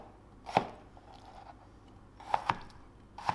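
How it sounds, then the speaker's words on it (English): A knife chopping tomato on a cutting board, meant for a seafood pizza: three or four separate crisp chops, close and fairly quiet, with short pauses between them and no talking. "So I'll just chop that into little bits."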